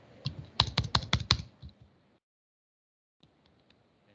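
Quick bursts of typing on a computer keyboard, about eight sharp close keystrokes in a rapid run, then silence and a few faint scattered key taps.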